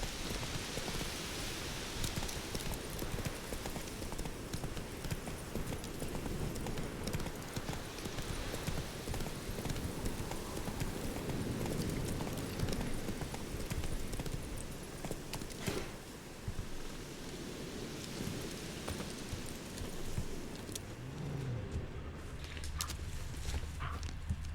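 Steady horse hooves in The Witcher 3 video game clip-clop at an even pace over a constant wash of rain-like noise, continuing for a long stretch without speech.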